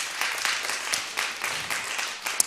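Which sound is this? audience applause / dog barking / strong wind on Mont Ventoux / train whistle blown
audience applause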